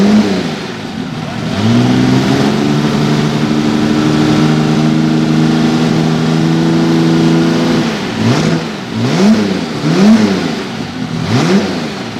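Holden 202 six with a draw-through T04 turbo fed by a 55mm Weber carburetor on an LJ Torana sports sedan, revving hard and holding a steady high pitch, then blipped in several sharp rising-and-falling bursts, loud and close.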